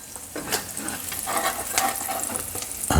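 Halloumi cheese sizzles and spits in hot olive oil in a pan, a dense, loud, continuous crackle with a sharper burst at the very end.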